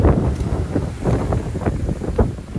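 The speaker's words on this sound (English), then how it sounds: "You can see how windy it is." Strong wind gusts buffet a tropical fruit farm of mangoes, lychees and cashews, a loud rushing roar with repeated bursts across the microphone, no talk.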